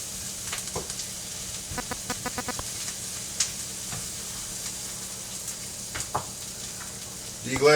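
Onions and garlic sizzle and fry in a pan with a steady, moderate hiss, punctuated by scattered clicks and stirring taps, with a louder clatter right at the end.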